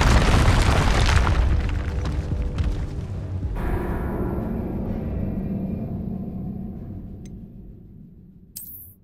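A Confringo blasting spell detonates in Hogwarts Legacy with a loud, booming explosion and crackling burst that decays into a rumbling tail, followed by a brief sharp effect near the end.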